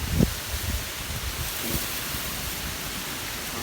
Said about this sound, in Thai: ขออภัยในเสียงลมหลายๆด้วยจ้ะ